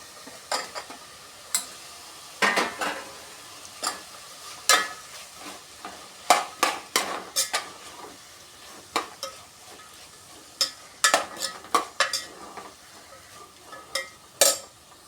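Onion, green chili and tomato sauté in a pan for a vegetable biryani, with frequent sharp spoon scrapes and clinks against the pan over a soft, steady sizzle.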